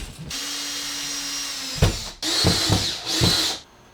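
A power drill drives screws into wall studs while IKEA cabinets are installed, giving a close whirring run, then sharp clunks and two more short loud bursts of driving that stop abruptly.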